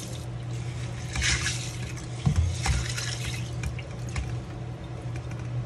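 Tap water runs steadily into a bowl as pigeon peas are washed by hand, with splashing and light clinks in between; no one speaks.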